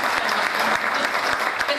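Steady audience applause at a mushaira, an Urdu poetry gathering, sustained dense clapping from a crowd for the full length, fairly loud and even.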